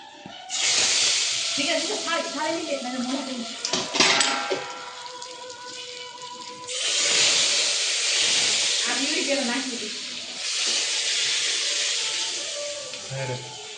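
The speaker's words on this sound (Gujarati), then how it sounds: "મસ્ત પ્યોર સિંગ તેલ, હિંગ અને કાશ્મીરી લાલ મરચા એનો હવે આપણે વઘાર કરશું" Steady hissing sizzle of asafoetida and Kashmiri red chilli hitting hot peanut oil, loud and close, surging in bursts with brief crackles and some background voices.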